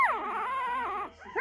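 Puppy with freshly docked tail, handled up close, giving a sharp yip that slides into a long, wavering whimper, then a brief rising squeal at the end.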